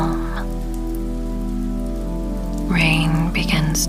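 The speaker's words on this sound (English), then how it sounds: "Rain begins to fall in larger and larger drops, and then in sheets." Steady rain patters on a surface in a stormy mountain setting, with heavy drops falling as a dense constant hiss under a droning tone, while a voice speaks over it near the end.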